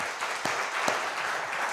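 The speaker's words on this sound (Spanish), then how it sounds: "Dele un aplauso al Señor" A church congregation applauding during a Spanish-language service, a soft, even patter of many hands heard from a distance, with a couple of sharper claps standing out.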